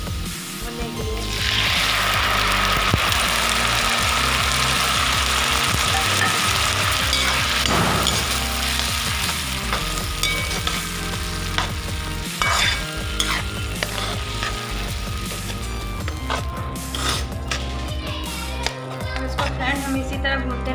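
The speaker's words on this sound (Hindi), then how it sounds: "हम इसी तरह भूनते रहेंगे जब तक तेल न छोड़ दे।" Garlic, chilli, ginger and tomato masala paste sizzles loudly in a hot pan while a spoon scrapes and stirs it, the frying hiss continuous with intermittent scraping knocks.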